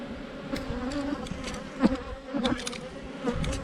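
A steady, dense buzzing of many honey bees close by, with occasional louder passes as individual bees fly near.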